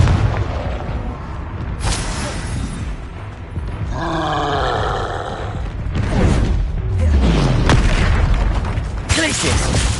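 A Confringo fire spell bursts in Hogwarts Legacy gameplay amid other spellcasting, giving loud booming blasts and roaring rumble over continuous dense game noise, with voice shouts mixed in.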